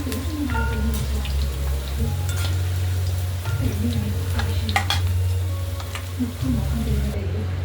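Okra (bhindi) fries in a pan with a steady, close sizzle, broken by scraping stirs. Low rumble from a burner or fan runs beneath it.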